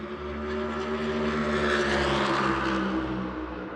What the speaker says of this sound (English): trying to get questions in between the passes of these cars is tough, but these cars sound a little bit louder